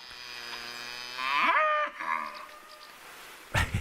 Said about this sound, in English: let's cue the cows